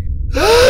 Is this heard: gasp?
yes